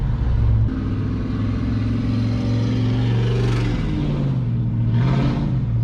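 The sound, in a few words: GMC Yukon with Glasspack exhaust revving engine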